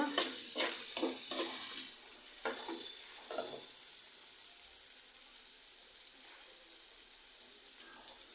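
Spice paste frying in a pan, a bright close sizzle with several quick scraping stirs of a spoon early on, then an unbroken hiss that fades a little and swells again.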